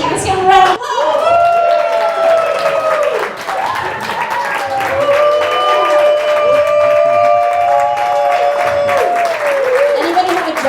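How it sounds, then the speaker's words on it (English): An audience at a 2013 coaching presentation breaks into sustained applause, loud and continuous, with voices calling out and cheering over the clapping. "Let's give him a round of applause."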